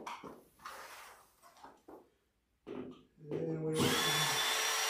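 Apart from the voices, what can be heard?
power drill removing screws from pool table rails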